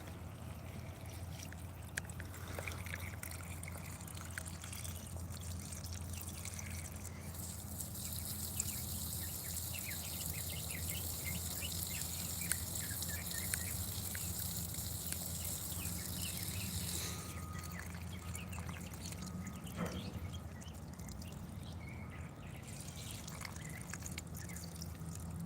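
Steady trickling water from garden watering around fruit plants such as figs and an air-layered branch, a continuous wash with insects chirping in the background from about seven to seventeen seconds.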